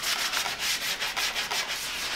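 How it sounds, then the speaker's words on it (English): An 80 grit sanding block rubs back and forth over the edges and top of a wooden barstool, a steady rhythmic scratchy sanding close by with no talk. "I'm going to use an 80 grit sanding block, and I'm going to go over just the edges and across the top to smooth it out"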